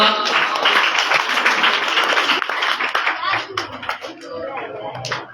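Audience applause at a school prize ceremony for students who won positions in a competition, a dense sustained clapping that gradually thins out, with a voice speaking over it.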